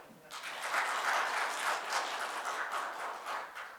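A church congregation at a New Jersey Sunday service applauds after an elder's appointment, steady, moderately distant clapping that rises quickly and holds evenly.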